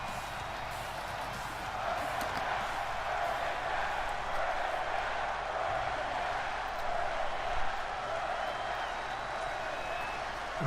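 Steady roar of an arena crowd cheering in WWE 2K20 during a non-title match with Seth Rollins and Shinsuke Nakamura, a continuous broad wash of massed voices and scattered claps with a low commentary voice running underneath.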